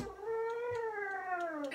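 A single long, drawn-out cat meow, close and fairly loud, rising and then sagging in pitch.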